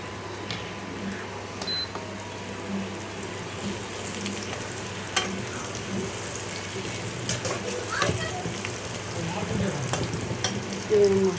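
Onions fry in a pan with a steady, soft, close sizzle and crackle that runs throughout, with occasional faint stirring sounds.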